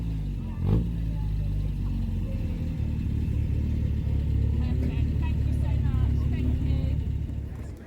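A Chevrolet Corvette rumbles past at a classic car show at Goodwood, its steady low engine note close and sustained, while people talk nearby.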